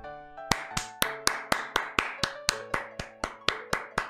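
Hands clap in a steady, even rhythm of about a dozen crisp, close claps, with no talking.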